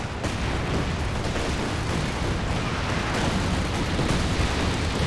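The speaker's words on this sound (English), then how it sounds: "Incendiary barrage on the 17 pounder" Incendiary artillery barrage pounding a 17-pounder emplacement in Company of Heroes 2, a dense, continuous rumble of overlapping blasts and crackle that stays loud and steady throughout.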